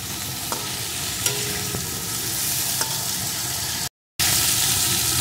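Mixed vegetables for puishak chorchori sizzle and crackle in a pan while being stirred and fried, a steady close sizzle with a few brief scraping strokes and a momentary dropout near the end.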